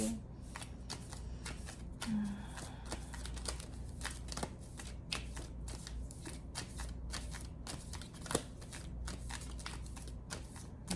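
Tarot cards shuffled by hand in a steady, continuous run of crisp riffling and flicking bursts, close and moderately quiet over a faint background hum.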